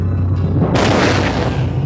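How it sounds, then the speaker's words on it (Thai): A gunshot sound effect in a Thai game-show comedy sketch: a loud, close, sharp boom bursting out partway through, with dense noisy decay over a low background rumble. "เสียงปืนเสียงปืนเฮ้ย เฮ้ย ใครยิงใครยิง"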